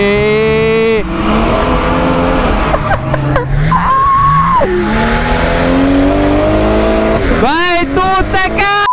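Car tires squeal loudly as the car slides through corners on a race track. Long wavering shrieks overlap with a close, roaring engine, and excited shouting breaks in near the end.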